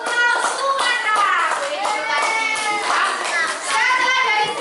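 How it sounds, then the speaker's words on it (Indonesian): A classroom full of children claps for a student group that has just presented, the clapping mixed with lively, overlapping kids' voices and shouts throughout. "Tepuk tangan buat kelompok Pulau Sumatera."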